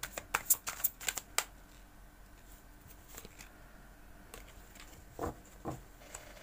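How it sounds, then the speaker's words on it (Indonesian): Tarot cards are spread out on a table in a burst of quick papery flicks and slides near the start, then sparser soft card snaps and shuffles, close and quiet with no talk. "Kita lanjutkan menebar kartunya."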